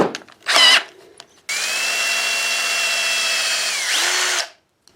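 A short burst of drilling into a rusted chipper shredder gas tank, then a power drill whines at a steady high pitch for about three seconds before winding down and stopping.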